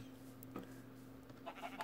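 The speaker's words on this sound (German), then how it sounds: "Oh, noch mehr Schafe." Sheep bleating in the video game Minecraft, a few short, faint bleats scattered over a low steady background hum.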